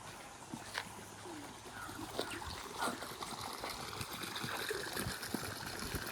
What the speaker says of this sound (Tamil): தண்ணி பாஞ்சிட்டு இருக்கு